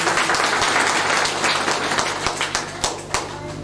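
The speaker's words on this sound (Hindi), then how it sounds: "मैं एक बार चाहता हूं कि एक बार जोरदार ताली होनी चाहिए" Dense, steady applause from an audience at a Hindi-language spiritual gathering, with sharper individual claps standing out near the end; no talking over it.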